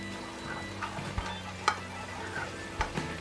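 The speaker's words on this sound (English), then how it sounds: "But I'm going to mix that all up." Barbecue sauce for pork and beans being stirred in a bowl, giving soft scraping and clinking strokes at an irregular pace over a low steady background, with no talking.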